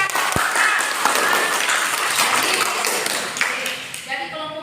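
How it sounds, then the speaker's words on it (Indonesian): A classroom applauding a student group, steady clapping from many hands under a talking teacher that fades toward the end. "Iya, bagus berikan aplaus."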